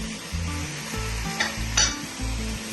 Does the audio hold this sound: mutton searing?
yes